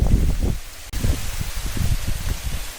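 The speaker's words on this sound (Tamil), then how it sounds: "காற்று பறக்குது எல்லாம் கொண்டு வர போகிற கீரையை" Wind gusts through trees outdoors in a rural yard, with a steady, close rustle of leaves that rises and falls in soft waves, broken by one brief sharp click.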